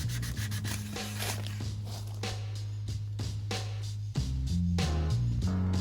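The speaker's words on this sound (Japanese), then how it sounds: "実際にこれを使っていくとどこが擦れるかとか考えながら表面を優しく削っていきます。" Sandpaper gently rubs a wooden surface to give it an aged look while customizing an Iwatani portable stove, with close, rhythmic back-and-forth strokes that grow slightly heavier toward the end.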